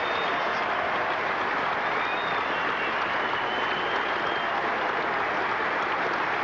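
Cricket crowd at Edgbaston in a 1986 England versus India Test match applauds steadily, a dense, even wash of clapping from many hands that holds for several seconds.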